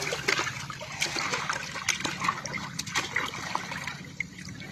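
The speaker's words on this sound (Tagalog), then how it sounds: "Ang lakas ng agos ng tubig" Strong flowing water current rushing and splashing steadily nearby, a loud continuous churning wash with gurgles and spatters, no pauses.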